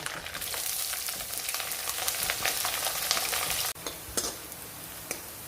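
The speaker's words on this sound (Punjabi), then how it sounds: "ਲਸਣ ਨੂੰ ਪਾਇਆ ਪਿਆਜ਼ ਤੇ ਹਰੀ ਮਿਰਚ ਇਹ ਵੀ ਪਾ ਲਈਆਂ" Garlic, onion and green chili sizzle and fry in hot oil as a tempering for Punjabi-style summer saag, a steady close crackling hiss with stirring clicks that drops out briefly near the end.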